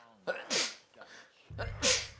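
A character sneezing in the Red Dead Redemption video game, a couple of sharp close nasal bursts with a soft wind-up and short gasps between them, over quiet background.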